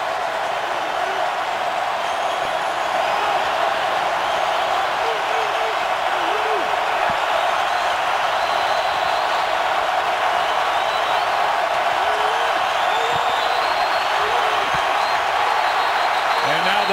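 Steady roaring stadium crowd noise inside the Superdome during an NFL game between the 49ers and Saints, a dense continuous din at constant loudness throughout with no let-up.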